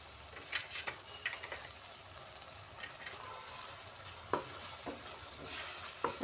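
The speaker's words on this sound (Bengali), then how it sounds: "এখন গ্যাসের আঁচটা কম করে ধীরে ধীরে এটাকে কষাতে হবে" Masala paste with cashew and melon seed sautéing over low heat in a pan, a quiet continuous sizzle broken by intermittent stirring scrapes and spoon taps, close up and without talk.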